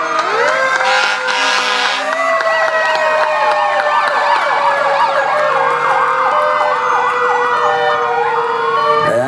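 A 1987 PEMFAB fire engine sounds its siren in a D-Day 80th anniversary parade in Ipswich, Massachusetts: a loud, close electronic wail that holds, then shifts into rapid rising-and-falling yelps, continuous throughout.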